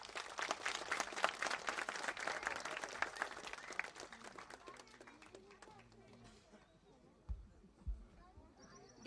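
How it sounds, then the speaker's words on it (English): An audience at a school annual concert applauds, dense clapping fading out after a few seconds, with crowd murmur and a voice over a speaker system. "a bigger round of applause, please"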